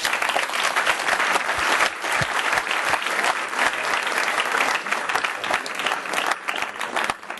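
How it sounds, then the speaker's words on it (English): A conference audience applauds a panel steadily, dense clapping filling the room without pause throughout. "Just join me with a big round of applause for our panel."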